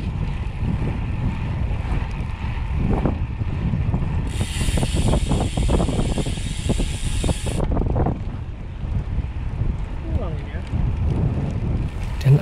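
Strong wind buffets the microphone in a steady, loud roar while cycling along a beach road at Parangkusumo, with faint mechanical clicks and rattles underneath.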